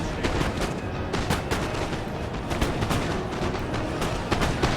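Massed musket volleys crackle in a Napoleonic battle video game, a dense, continuous rattle of overlapping shots with sharper individual cracks, loud and sustained throughout.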